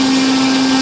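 An RC glider motor and propeller for a Volantex ASW-28 running at full throttle on a bench, a loud, steady high-pitched electric whine with a constant tone, brief and uninterrupted.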